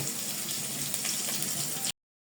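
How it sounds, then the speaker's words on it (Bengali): Steady, bright sizzling of whole spices frying in hot oil for a special masala, continuous and close, stopping abruptly near the end. "এই মশলাটি আমি সুন্দর করে ভেজে তুলে নিব"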